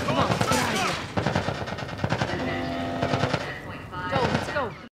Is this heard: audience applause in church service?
no